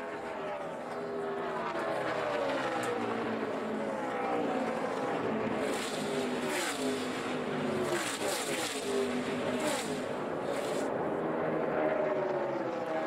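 NASCAR Nationwide cars race at Las Vegas in 2012, engines whining and sweeping past in repeated pitch-shifting passes under steady commentary from a race announcer.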